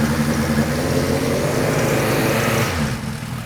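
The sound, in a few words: motorcycle with Yoshimura exhaust idling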